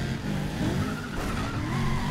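Race car in Need for Speed ProStreet overtaking on the inside, engine droning steadily with tire skids and squeals throughout, loud and continuous with no voice.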